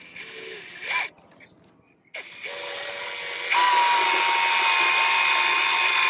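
A power driver runs screws into pre-drilled holes while replacing a seized boat drain plug, giving a loud, steady whirring buzz with a short pause before it starts again and carries on continuously.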